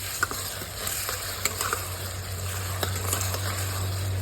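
Onions frying in a pan for paneer chole are stirred, giving a soft continuous sizzle with scattered scrapes and taps of the spoon, close and without talk.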